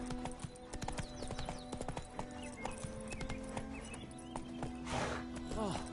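Geralt's horse Roach trots in The Witcher 3 game, hooves clopping in a brisk steady rhythm close by, with a snort or whinny near the end and voices speaking over it.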